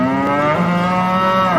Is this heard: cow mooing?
yes